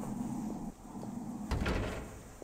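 A door opens in the horror indie game Haneko's Late Homework, a soft creaking slide followed by a brief knock and a rattling clatter midway, quiet and close against a low steady hum with no talk.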